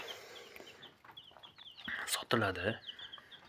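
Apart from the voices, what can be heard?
chickens and chicks clucking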